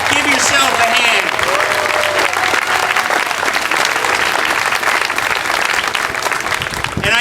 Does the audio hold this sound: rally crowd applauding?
yes